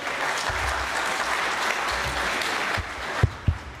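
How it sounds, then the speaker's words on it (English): A crowd at a leadership talk claps steadily and warmly, with a couple of sharp thumps near the end as the applause carries on. "please give him a hand, would you? Give him applause."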